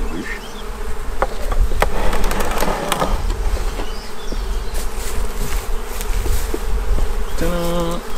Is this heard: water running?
no